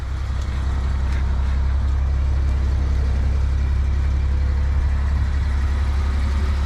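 A carbureted Suzuki Every kei van engine runs at a steady idle, a loud, constant low rumble close by with no talking.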